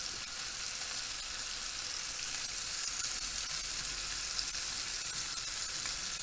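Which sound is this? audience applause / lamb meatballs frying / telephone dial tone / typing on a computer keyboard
lamb meatballs frying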